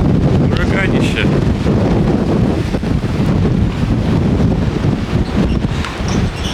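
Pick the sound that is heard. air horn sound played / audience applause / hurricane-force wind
hurricane-force wind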